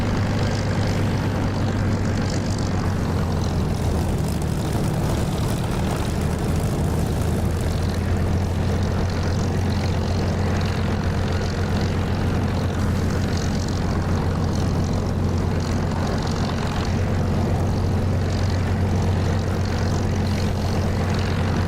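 A military aircraft taxis in the DCS flight simulator game, its engine a loud, constant propeller-like drone with a steady low hum that holds unbroken and alone the whole time.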